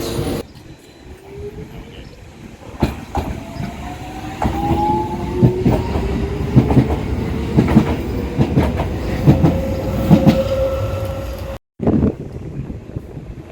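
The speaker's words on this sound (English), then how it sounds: "we're getting on this train to Canning Town." A four-car London train to Canning Town rumbles steadily along the rails with rhythmic clicking of wheels and rising metallic squeals, loud and close, as if heard from on board.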